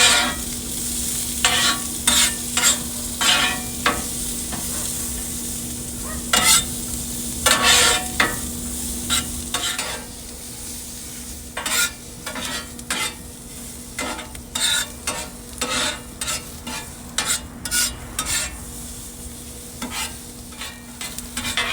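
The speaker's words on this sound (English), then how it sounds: "While the onions are going on the griddle" Onions sizzling in oil on a hot Pit Boss griddle, a steady close frying hiss broken by repeated scraping and tapping as a spatula stirs them, with no talking.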